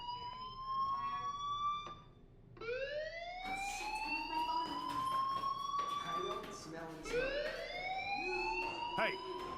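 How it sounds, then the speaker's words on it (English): A fire alarm in the Life is Strange video game wails with rising, repeating siren sweeps that sound loud and steady, while a voice speaks over it. "do you hear that fire alarm? That means you should be outside."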